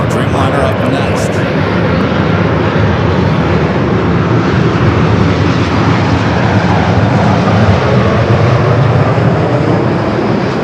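Boeing 787 Dreamliner taking off from Los Angeles LAX, a loud continuous broad engine roar held steady throughout, with radio chatter faintly underneath.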